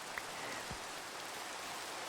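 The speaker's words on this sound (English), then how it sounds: "okay, it's raining." Steady rain falls outdoors as a continuous, even broadband hiss across the whole stretch, with no voices heard.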